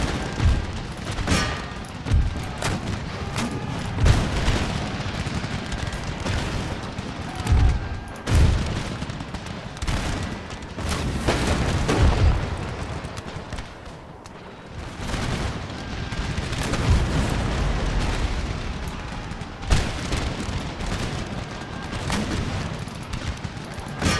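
Mortar fire and explosions in the PC strategy game Empire: Total War: a dense, continuous battle din of booming blasts and crackling gunfire, with several heavy low thumps standing out against the roar.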